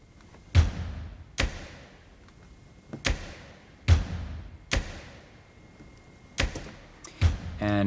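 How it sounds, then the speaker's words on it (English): Percussion built from treasure chest samples, a series of sharp wooden thumps and knocks about once a second in a loose groove, each hit crisp with a short decay, fairly close, ending in a quick rattle. "that is a combination of some treasure chest samples"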